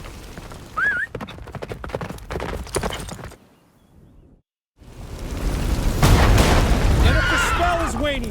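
A horse gallops in the video game The Witcher 3. Hoofbeats clatter in a quick rhythm alongside game voices and effects, drop to near silence for about a second, then return under louder, denser sound.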